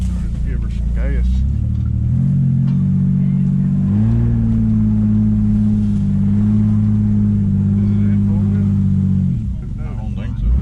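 A Chevrolet S10 pickup truck engine is given gas while climbing a hill, with a loud, steady revving drone that rises in pitch around the second and fourth seconds, holds, then drops near the end; a voice speaks over it.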